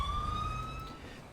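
An ambulance siren in GTA 5 wails as a thin rising-falling tone over low road rumble, moderately distant and steady, with no talk.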